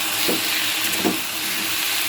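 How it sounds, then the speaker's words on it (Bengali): A small piece of raw turmeric fries in a pan, producing a steady, close sizzling hiss with a couple of faint soft taps. "হলুদের টুকরোটা আবারও ভাজছি"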